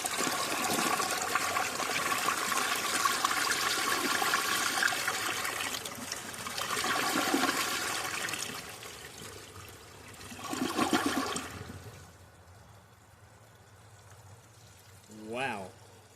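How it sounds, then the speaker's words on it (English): A 1995 Mansfield Alto toilet flushes with a loud rushing surge of water that swells and ebbs in several waves, then settles into a quieter trickle and refill, ending with a brief gurgle. "And now, let's see this amazing flush."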